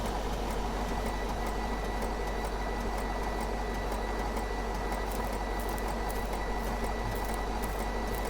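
Branch-trimming machine on a road maintenance vehicle in Road Maintenance Simulator, a constant mechanical whir and drone with a steady low hum, running evenly throughout and alone.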